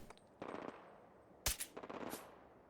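Bursts of rapid automatic gunfire from a sentry bot in Fallout 4, a short volley early, then a sharp louder burst followed by a string of rattling shots, moderately close with no talk over it.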